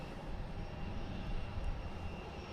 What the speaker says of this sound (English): Before that takes off, we have a JetBlue coming in from Fort Lauderdale,